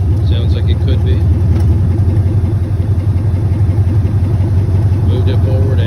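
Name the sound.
car engine running with exhaust issue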